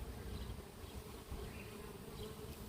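Honey bees buzz continuously around an open mini urban beehive during an inspection, a dense, steady hum of many insects close by, faint overall and with no talk over it.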